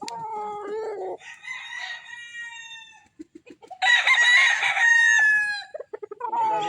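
A brood stag rooster crows close by in loud, drawn-out calls, one early and a stronger one midway, with short clucks and chicken noises between them and no speech.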